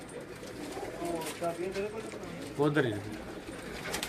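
Pigeons on a rooftop in Gujrat give soft, low cooing calls, faint and somewhat distant, while people talk quietly nearby.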